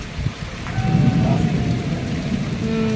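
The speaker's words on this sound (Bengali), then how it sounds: "তো টিপ টিপ বৃষ্টি পড়তেছে, অনেক প্রতীক্ষার পর বৃষ্টি আসছে।" Light rain falling at night during a thunderstorm, a steady close patter on surfaces with a low rumble of thunder rolling underneath, no one speaking.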